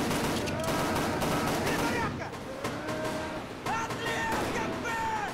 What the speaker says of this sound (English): it looks like they're getting shot at from two different directions